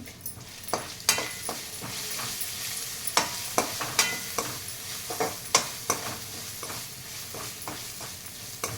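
Ginger garlic paste with turmeric frying in a pan, a steady sizzle broken by repeated sharp scraping knocks of a stirring spoon against the pan, close and moderately loud with no voices.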